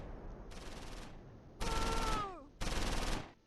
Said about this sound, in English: We're taking machine gun fire from the north.